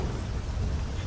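Thunder rumbles in a roleplay driving video game, a brief, dense low roar blended with steady rain noise, with no voices present.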